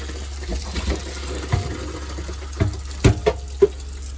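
Cold water runs from a travel trailer faucet during winterizing, a low steady flow with a few splashy bursts and clunks toward the end, fairly close and without talk.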